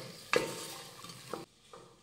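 Green peas and diced potato being sautéed in a pan for aloo matar pulao, with a sharp utensil clatter near the start, then soft scraping stirs and a faint sizzle before it goes quiet.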